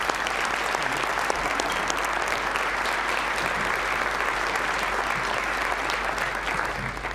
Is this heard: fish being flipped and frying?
no